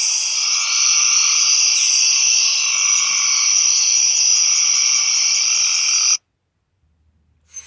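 Frogs croak in a continuous, loud, buzzing trill that holds steady for several seconds, then cuts off abruptly into near silence.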